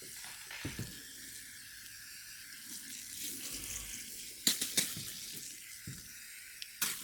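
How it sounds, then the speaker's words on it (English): Running water rinses hiking boots after they are scrubbed with boot cleaner, making a soft, steady hiss of water with a few sharper splashes and knocks nearby, and no one speaks. "So once we get them cleaned up with our boot cleaner, rinse them off again."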